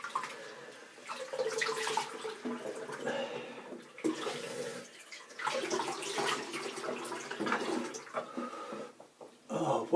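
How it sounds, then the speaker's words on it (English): Running water splashes as a man rinses his face after a shave with an Ever Ready 1912 safety razor, steady watery splashing in irregular bursts with brief pauses, close to the listener. "I'm just going to rinse my face and I'll be right back."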